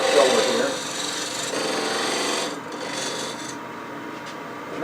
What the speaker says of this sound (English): with a 3/8 inch detail gouge to kind of really square this up